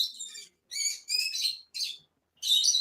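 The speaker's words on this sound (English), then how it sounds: "kookaburras up the back." Native Australian kookaburras call from the back of a yard, a few bright chattering bursts separated by short gaps, clear and fairly close with no talk over them.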